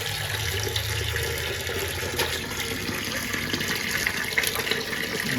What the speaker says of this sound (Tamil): ஒரு தண்ணி கழுவிக்கலாம்.